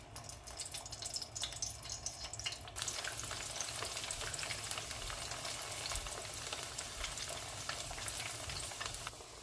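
Steady broadband sizzle of plantain frying in a pan, continuous and fairly close, with occasional crackles and pops and no talking.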